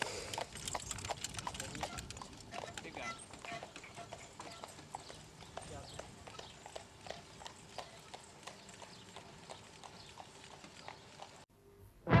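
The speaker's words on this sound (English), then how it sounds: "it's a heartbreaking thing to see the horses go" Horses walking with steady, repeated hoof clip-clops at moderate distance, a continuous rhythmic clatter over faint background noise, ending abruptly near the end.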